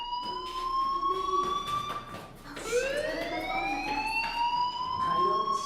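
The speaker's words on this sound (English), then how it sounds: "do you hear that fire alarm?" A fire alarm in the video game Life Is Strange rings with a steady, piercing electronic tone that sweeps and repeats, loud and alone throughout.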